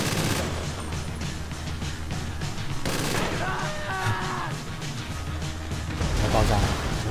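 A firefight in GTA V Online's desert survival mode: dense bursts of gunfire rattle throughout, punctuated by a heavy blast partway through.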